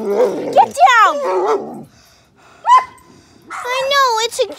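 A puppy barks, yelps and whines in short excited bursts at close range while jumping up, with a voice speaking over and between the sounds.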